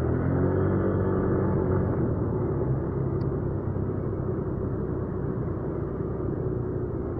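Steady, loud low rumble of road traffic and engine noise is heard from a motorcycle moving through traffic at night, continuous with no clear breaks.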